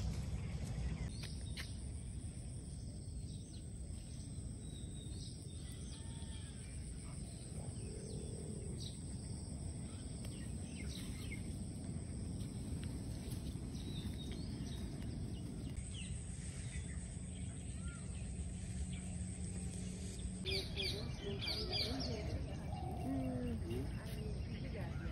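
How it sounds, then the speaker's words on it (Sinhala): Early-morning birdsong and insect chirring carry faintly across a campsite near the Yala reserve, scattered calls over a steady, quiet background hum. "ඔගොන්ට ඇහෙනවද කුරුල්ලෝ කෑ ගහන සද්දේ උදේ පාන්දර"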